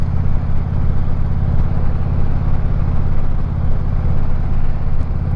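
Motorcycle called Eleanor cruising down the road, its engine thrumming in a steady, loud low-pitched rumble that holds constant throughout, with no talking over it.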